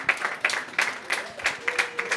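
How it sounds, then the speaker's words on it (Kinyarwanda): At a gathering honoring the Rayon Sports women's football club after a big cup win, a crowd claps in a steady rhythmic beat, loud even strokes roughly three per second, fairly close. "Mwiha amashyi"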